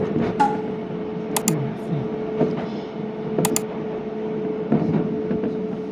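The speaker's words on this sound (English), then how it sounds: "This train runs towards the center of Tokyo." Rumbling interior of a Tokyo commuter train with a steady electric hum, rhythmic clunks of wheels over rail joints and a few sharp metallic clicks.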